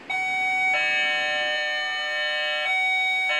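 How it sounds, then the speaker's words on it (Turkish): An Aydede electric doorbell rings with a steady electronic chime, a bright sustained tone that shifts pitch a few times, loud and close with no voices. "2 numaraya basarsan ding dong öter"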